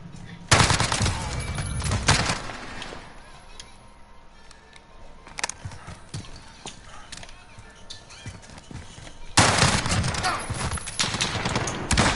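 Gunfire in the video game Modern Warfare comes as rapid bursts of automatic shots, loud and clustered at the start and again near the end, with quieter scattered shots between.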